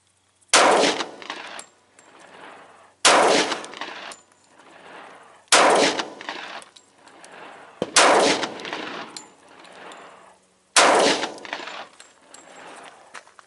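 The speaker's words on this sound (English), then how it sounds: "finally I am going to go ahead and run 5 of the 200 grain XTP hollow points" Five loud, sharp gunshots from a Smith & Wesson M&P 45 M2.0 pistol firing 200 grain XTP hollow points, spaced about two to three seconds apart, each with a ringing echo decaying outdoors.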